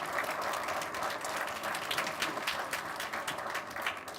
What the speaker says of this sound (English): I think Sir deserves a big round of applause for all the work he does.